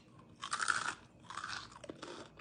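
Crunchy Cheetos are bitten and chewed close up, with two bursts of dry crunching followed by softer chewing, quiet and without talk.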